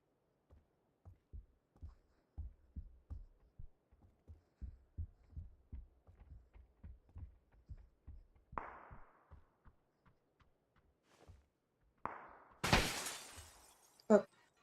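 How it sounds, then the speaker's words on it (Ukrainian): Window glass breaking in the video game PUBG: a sharp crash of shattering glass near the end, after a long run of soft rhythmic footstep-like thuds, with a few other brief bangs. "Хтось вікно е, розбив."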